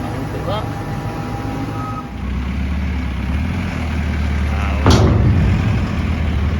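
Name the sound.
farm vehicle reversing with beeps, pushing tipped trailer load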